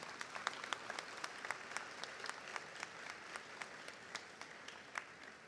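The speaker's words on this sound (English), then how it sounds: "please give them a round of applause for their support throughout the school year" A graduation ceremony audience applauds, the clapping soft and somewhat distant, scattered sharp claps over a continuous wash of hands.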